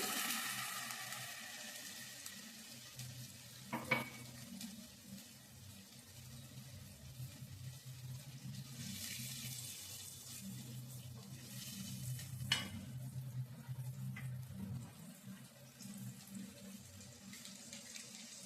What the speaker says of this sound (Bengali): দিলাম একটু জল